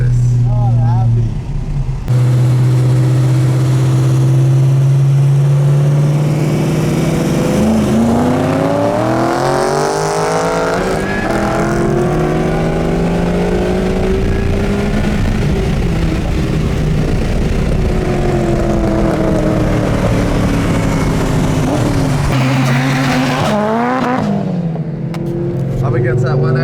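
A supercharged Ford FG XR8 at Brisbane roll racing, spinning its tyres and missing gears, makes a loud close engine drone with climbing and falling revs and shifting whine, continuous for the whole stretch.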